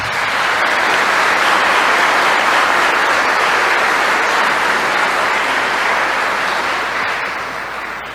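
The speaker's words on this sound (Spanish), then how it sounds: "Un aplauso." A church congregation applauds the arrival of a sacred image of Our Lady of El Cisne, a loud, full, steady burst of clapping filling the space before fading slightly at the end.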